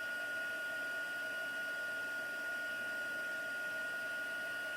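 A heat gun for embossing a card blows with a steady, even hiss and hum that holds unchanged throughout, close by and fairly quiet.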